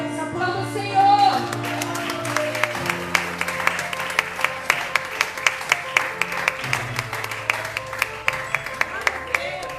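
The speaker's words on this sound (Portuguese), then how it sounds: "aplauda o Senhor" A church congregation claps along in a steady, rhythmic beat under sustained organ or keyboard chords, the clapping sharp and evenly spaced throughout.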